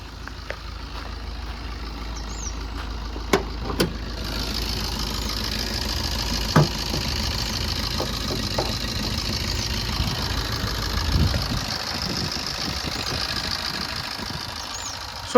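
A 2014-15 Swift VDI diesel engine idles steadily with the bonnet open, giving a continuous low knocking rumble close by and a few sharp clicks and taps over it.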